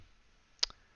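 A single computer mouse click while working in SketchUp, a brief crisp tick with a faint second click right after, close and quiet against near silence.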